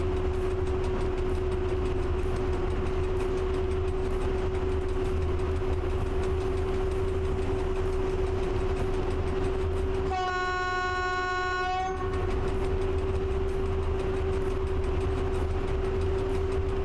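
Electric cargo train in the Train Driver 2 simulator, a steady running hum with a constant electric whine, interrupted midway by a two-second horn blast before the rolling drone resumes.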